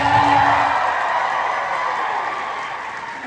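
Applause from a convention panel audience rises at once, a broad wash of clapping that stays fairly even, then thins slightly as it goes on, with no clear talk over it.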